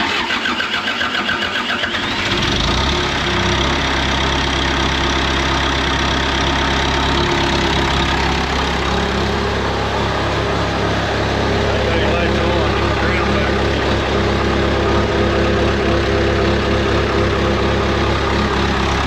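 A rebuilt diesel engine on a John Deere military dozer cranks briefly, catches and settles into a loud, steady, rumbling idle with some knocking, while people talk nearby.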